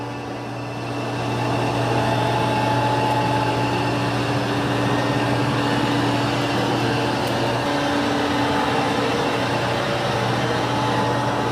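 An iRobot Roomba j9+ or i5+ self-emptying robot vacuum running over carpet, a steady close whirring drone with a constant hum that holds for the whole stretch with no talking.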